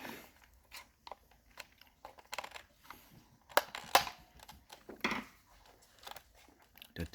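Plastic car side-light housing on a Land Rover Discovery TD5 being pressed and clicked back into place by hand, a series of short scattered clicks and knocks with two sharper snaps near the middle.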